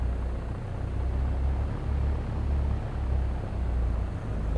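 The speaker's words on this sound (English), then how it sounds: "We're just going to get on the runway and we're going to take off" A simulated aircraft in X-Plane 11 on the runway for takeoff gives a steady low engine rumble and roar, continuous and moderately loud, with no talking.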